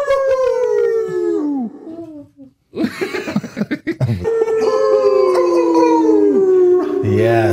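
Several people imitate a wolf howl with long sliding vocal howls, broken by a short pause with giggling and coughs, then more howling together.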